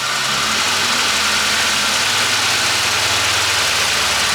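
A Nissan S14 engine running with the transmission back in and the drive shaft spinning, a steady, loud mechanical drone with a low rumble throughout.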